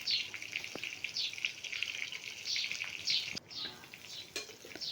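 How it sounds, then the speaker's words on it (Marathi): Eggplants fry in a shallow layer of oil, giving a steady, moderately quiet sizzle with occasional crackles and soft stirring scrapes throughout. "या ठिकाणी मी अशा प्रकारे सगळी वांगी तेलामध्ये घालून घेते."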